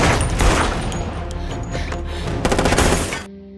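Loud, rapid gunfire in an action film shootout, a dense fusillade of overlapping shots and bursts running almost continuously for about three seconds before cutting off abruptly into quiet.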